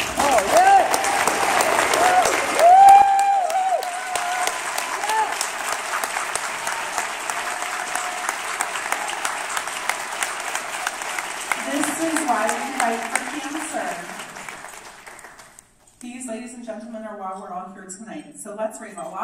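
Audience at a cancer society gala applauding survivors, a steady wash of clapping with a few voices over it at the start, fading after about fifteen seconds as a speaker resumes talking.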